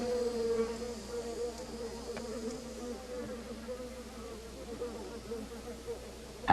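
Continuous wasp buzzing droning on for several seconds, a moderately loud insect hum over a noisy outdoor background with faint voices underneath.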